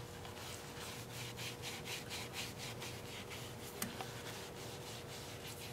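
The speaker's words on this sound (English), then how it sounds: "now I'm going to put the last coat of shellac on" A cloth applies shellac to a spinning live-edge alder bowl on a wood lathe, making a soft, rhythmic rubbing swish under a steady motor hum, with a couple of faint clicks and no talking.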